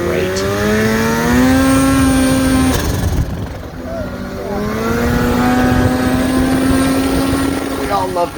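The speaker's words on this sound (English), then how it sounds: "It pulls, and it pulls hard now, and it's running great." A Polaris Axys 800 RMK snowmobile engine revs hard at high RPM, loud and close, its pitch climbing in two sustained pulls separated by a brief dip off the throttle.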